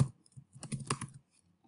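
Typing on a computer keyboard during a spreadsheet entry, a brief cluster of quiet, close key clicks with no talk.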